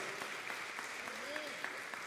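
A church congregation claps steadily during an evening worship service, a faint, even patter of applause heard under a speaking voice.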